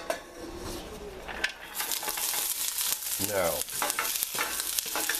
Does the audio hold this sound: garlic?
yes